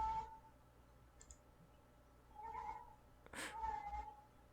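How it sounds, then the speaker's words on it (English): A neighbor's cat meowing, a few short faint meows spaced apart with quiet pauses between them, heard indoors at a distance. "he keeps meowing at my cat every single day"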